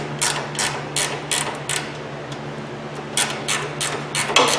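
A ratchet tightens a bolt on a Jeep WJ Dana 30 upper axle bushing, giving quick, crisp clicking strokes in short rhythmic bursts, close and moderately loud over a low steady hum.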